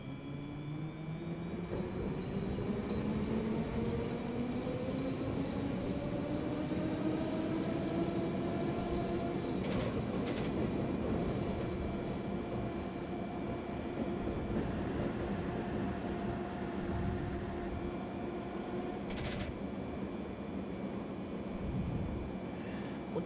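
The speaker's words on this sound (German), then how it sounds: "Bremse lösen. Fahrstufe 1 rein und wir rollen schon los." A simulated BR 420 S-Bahn electric train on Munich's S4 line between Grafing and Laim pulls away, its motor whine rising gradually in pitch over a steady rolling rumble, with a few brief clanks along the way.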